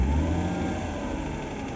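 A Mercedes M112 engine with a suspected lifter knock revs, a loud rumbling rise that settles into a steady mid-pitched drone with faint ticking underneath.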